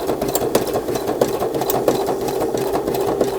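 A small sewing machine stitches Craft Tex, a loud, close, continuous mechanical whir with a fast regular needle chatter running throughout, no voices.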